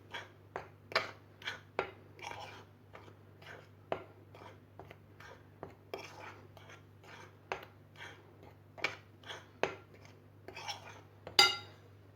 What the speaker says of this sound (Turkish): Sonra bir kaşık yardımıyla hep bütün malzemelerimizi bu şekilde karıştırıyoruz.